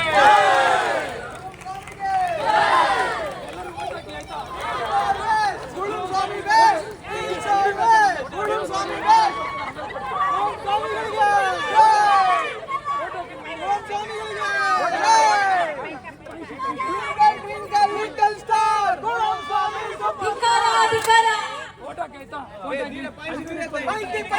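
A crowd shouts chants of victory and hails, many voices overlapping in loud, rising bursts with chatter between them, carrying steadily throughout.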